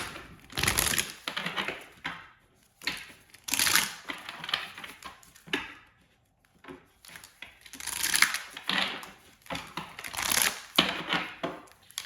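Tarot cards shuffled close up, bursts of crisp riffling and slapping card noise in uneven clusters separated by short pauses, with no talk.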